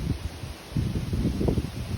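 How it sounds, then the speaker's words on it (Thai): Strong wind blows outdoors near a stream among mushrooms and flowers, gusting as a low rumbling buffet against the microphone that swells and fades over a couple of seconds. "ลมแรงมากเลยค่ะ"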